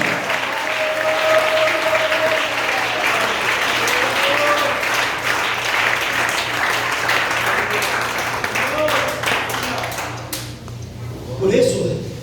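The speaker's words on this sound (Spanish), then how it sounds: "Vamos con ese aplauso." A church congregation applauds at a Saturday worship service, dense steady clapping filling the room for several seconds while voices talk over it, then thinning out near the end.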